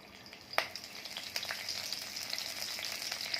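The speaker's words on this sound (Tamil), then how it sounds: "இப்போ கருவேப்பிலை போட்டு தாளித்து கொட்டிடணும்" Curry leaves sizzling in hot coconut oil, a steady crackling hiss with sharp pops scattered throughout, fairly quiet and heard alone.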